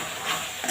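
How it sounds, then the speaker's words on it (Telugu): Ketchup masala fries in a pan while being stirred, a soft continuous sizzle with a brief louder scrape of stirring near the end. "కెచప్ అంతా పచ్చివాసన పోయేదాకా వేపాలండి."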